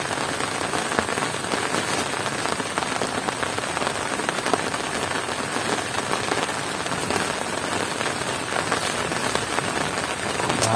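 Steady rain drums on a tent overhead, a dense, even patter close by that never lets up, with no voices.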